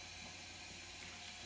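Warm water runs from a tap into a kitchen sink, a faint, steady hiss of flow lasting the whole moment without any talk.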